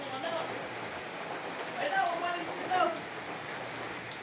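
Steady rain falls outdoors as a continuous soft hiss of drops on surfaces, moderately loud and unbroken, with faint voices briefly audible beneath it.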